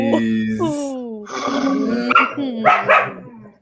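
A dog gives a few short yips and barks alongside people talking, the barks close and fairly loud between the voices.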